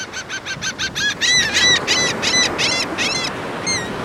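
Gulls or geese at a beach squawk in a rapid series of harsh, repeated honking calls while being fed Cheetos, loud and close, growing denser midway with a brief pause near the end.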